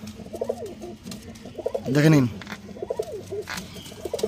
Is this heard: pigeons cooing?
yes